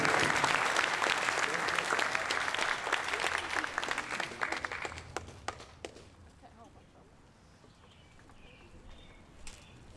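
Audience applause at an Eagle Scout court of honor ceremony, steady full clapping for about five seconds that thins into a few scattered claps and quiet room noise.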